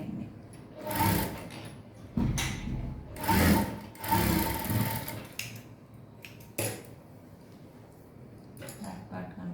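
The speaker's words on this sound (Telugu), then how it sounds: "స్టిచ్చింగ్ చేసేయండి." Sewing machine stitching a folded hem on a kids' lehenga, running in several quick whirring bursts of a few seconds each, close by. Someone talks quietly between the runs.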